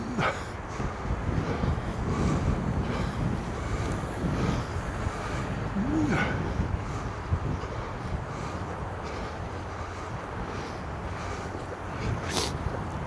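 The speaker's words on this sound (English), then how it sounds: "You can see exactly how windy it is right now, blowing across Route 90." Strong, cold winter wind gusts along Route 90 in Winnipeg, buffeting the microphone with a loud, uneven rumble and roar that continues throughout.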